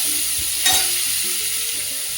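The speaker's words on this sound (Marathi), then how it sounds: "आता छान असं परतून घ्यायचं." Chopped onion and green chilli sizzle in butter in a pan for pav bhaji, a close, steady frying hiss with soft stirring scrapes and no voices.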